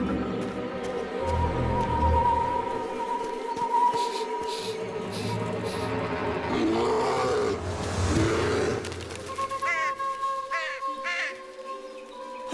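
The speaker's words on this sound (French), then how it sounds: "C'est un grizzly, mère." Deep roars and growls of a grizzly bear in an animated cartoon, loud and drawn out over a musical score, with high calls and tones toward the end.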